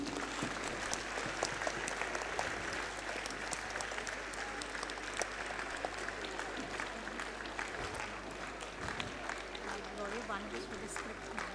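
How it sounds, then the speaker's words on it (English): An audience at a school acknowledgements and felicitation ceremony claps continuously, dense crisp applause at a steady level, with faint talk and background noise mixed in. "Please continue clapping."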